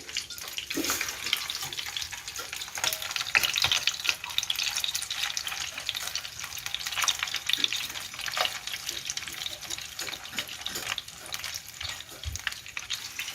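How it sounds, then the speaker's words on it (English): Steady sizzling and crackling of food frying in a pan, close up, with faint clatter now and then and no voices. "I turn the chicken for frying the other side of"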